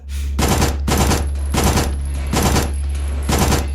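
Five loud, close bursts of automatic fire from an HK SMG2-style 8mm compact submachine gun in the game Signalis, each about a third of a second long, spaced by short pauses over a steady low hum.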